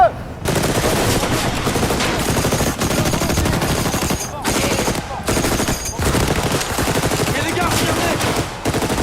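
A French Saint-Étienne model 1907 machine gun fires loud sustained bursts outdoors, rapid hammering strings of shots broken by several short pauses as the gun stops and restarts.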